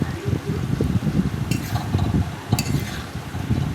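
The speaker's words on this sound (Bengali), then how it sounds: "তো আলুগুলো মশলার সাথে ভালোভাবে মিশিয়ে নিচ্ছি।" Fried potatoes are stirred into a spice masala with chopped coriander in a pan for aloo dum, giving repeated scraping and soft sizzling stirs against the metal, close and continuous, with no talk.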